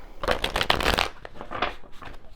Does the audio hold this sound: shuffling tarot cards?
yes